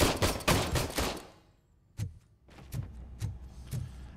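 Rapid bursts of gunfire at a shooting range in the video game RoboCop: Rogue City, a dense volley of shots followed by a pause, then several separate, spaced single shots.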